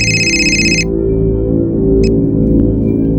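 An electronic phone ringtone chirps loudly for under a second, then gives one brief second burst, over a steady droning tonal background in a TV crime drama scene.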